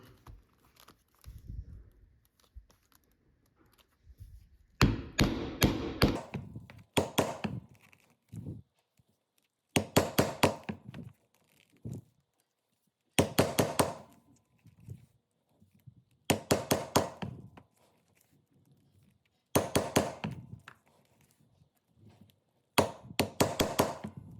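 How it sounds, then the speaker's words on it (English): Weaver 5mm stitching chisels struck to punch leather for a belt: clusters of sharp, loud mallet blows repeat every few seconds, separated by short quiet gaps, close by and with no talking. "These are the 5mm stitching chisels from Weaver."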